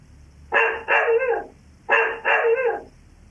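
A dog barking in two close double-bark bursts, loud and near, with brief quiet between.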